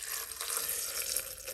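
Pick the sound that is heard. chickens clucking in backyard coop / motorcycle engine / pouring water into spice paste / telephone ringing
pouring water into spice paste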